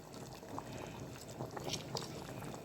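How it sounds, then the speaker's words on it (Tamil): Water boiling with soaked rice and lemon in a pressure cooker for mutton biryani, a steady soft bubbling and gurgling with a few brighter pops, close and moderately quiet throughout. "கிண்டவே தேவையில்லைங்க, அதான் கொதிச்சு கிண்டுது சின்ன ஒலைனால"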